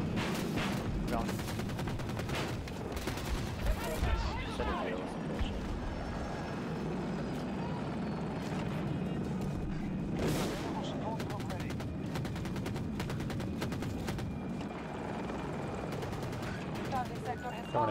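Sustained battlefield gunfire from Battlefield 2042: dense machine-gun bursts and scattered shots over a steady rumbling din, with a louder crack midway and a player talking over it.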